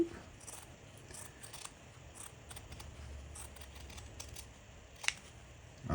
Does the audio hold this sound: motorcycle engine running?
no